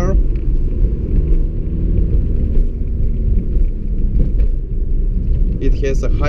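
A 1998 Audi A3 1.9 TDI diesel, remapped to around 155 horsepower with a hybrid turbo and bigger nozzles, drives along with a loud, steady low engine rumble from inside the cabin, someone talking over it.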